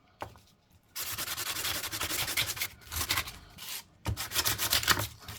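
Sandpaper rubs a bronze penny being shaped into a coin ring, producing close, continuous rasping strokes in three sustained passes with brief gaps between them.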